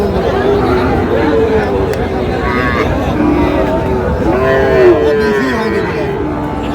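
A big Sahiwal bull at a busy cattle market in Bogura lets out low, drawn-out moos, with repeated calls rising over constant crowd chatter and nearby voices.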